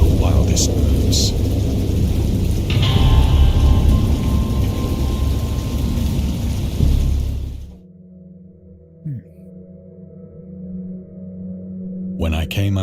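Heavy rain and rumbling thunder from a stormy scene in the Lovecraft game Dagon, a dense loud roar for several seconds that abruptly drops to a quiet low rumble with a faint hit.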